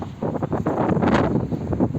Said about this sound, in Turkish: Hep rüzgar, hep rüzgar.